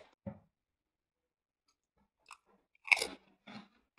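Crunchy cheesy Takis chips are chewed close to the mic in a few sharp, separate crunches with long silent gaps between them and no talking.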